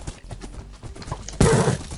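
Rhythmic hoof clip-clops of a Minecraft horse trot along steadily, followed by a sudden louder burst of noise near the end.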